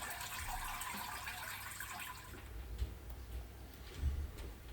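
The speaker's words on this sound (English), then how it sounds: "So I'm tipping it into the other fermentation bucket" Rhubarb juice tipped from one fermentation bucket into another, a steady liquid pour with a broad, continuous splashing rush that eases off partway, followed by a few softer sloshes and knocks.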